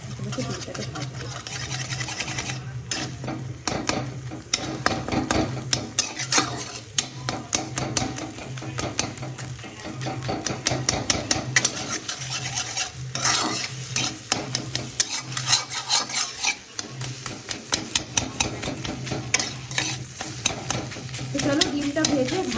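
Fried rice with egg is stir-fried in a pan at home, a spatula scraping and clattering in quick repeated strokes over continuous sizzling, with a low hum underneath for a long stretch.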